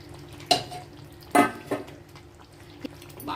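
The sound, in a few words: stirring gongura chicken curry in pan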